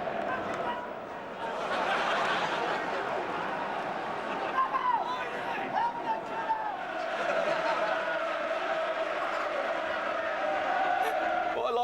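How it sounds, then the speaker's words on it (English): Dense roar of a football crowd at Smethwick, steady and loud throughout with overlapping voices and calls, swelling slightly over the clip. "the crowd is getting louder and louder"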